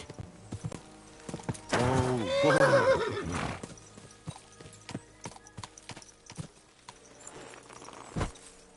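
In the video game Kingdom Come: Deliverance 2, a black horse in the woods gives one loud, drawn-out whinny. Soft clip-clop hoofsteps and light rustling follow at a calm, uneven pace.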